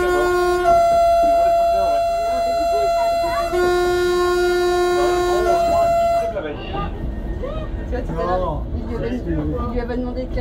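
A train's loud, sustained horn blasts twice in long harmonic tones, then cuts off as busy chatter and background noise continue.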